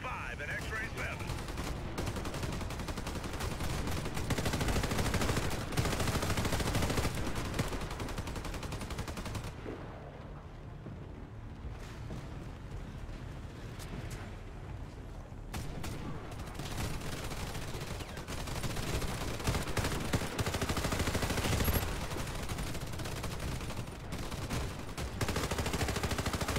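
Gunfire and bombardment in the video game Warface, dense continuous shooting and explosive rumble filling most of the stretch, easing briefly in the middle before building again, with radio-style voices talking over parts of it.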